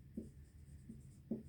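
Chalk writing on a classroom board during a Class 10 maths lesson on circles, heard as faint scratchy strokes in a few short bursts, quiet and close, with no talking over them.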